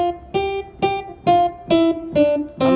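Piano notes struck one at a time, seven separate tones in a steady, unhurried rhythm, each ringing clearly with a sharp attack before the next begins, close and alone with no talk.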